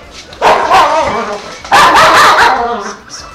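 A pet dog barks in a home during a Super Mario 3D World gaming session, two loud, close bursts of barking and yipping separated by a short pause.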